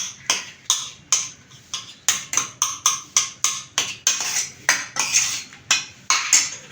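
A utensil mashes cooked papaya in a pot, producing a steady rhythm of sharp metallic clinks and taps, roughly two or three per second, close and clear with no talking.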